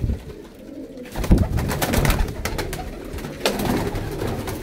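Pigeons coo in a breeder's loft, with soft repeated throaty calls overlapping close by, a steady murmur of birds and faint rustling throughout.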